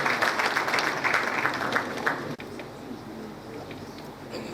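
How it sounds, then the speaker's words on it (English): A graduation ceremony audience claps in a dense, even wash of many hands for about two seconds, then the applause drops away to a quieter room murmur. "Please welcome him with a round of applause"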